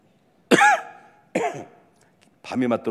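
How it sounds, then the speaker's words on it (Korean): Two sharp coughs close to the microphone during a church sermon, a short pause between them, followed by a voice speaking. "기침을 했다"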